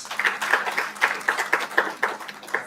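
A graduation audience at a health sciences institute clapping: close, rhythmic hand claps in a steady pulse of roughly four per second, sounding like a smaller group, fairly loud and without talk.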